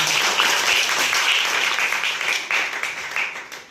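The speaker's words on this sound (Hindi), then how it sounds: "ताली बजाओ इसके लिए" Children in a Hindi-medium maths class clap together, a dense, steady patter of many small hands that stays loud for a few seconds, then thins slightly toward the end.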